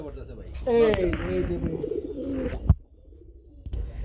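Pigeons coo at a Bangladeshi pigeon sale where pairs are offered with eggs, a low throaty cooing mixed with a voice talking close by, ending with a sharp knock before quieter room noise.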